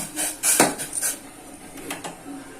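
A pot of boiled green tea is taken off the stove, with a cluster of metallic clanks and scrapes of the pot, then quieter clinks.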